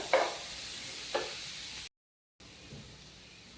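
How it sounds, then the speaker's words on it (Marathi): Chopped onion sizzles in hot tempering oil for dhaba-style paneer bhurji, with a steady fry hiss and two scraping stirs, then a brief silent gap and a softer sizzle. "कांदा 2 मिनिटं आपण चांगला तांबूस होईपर्यंत भाजून घेऊया"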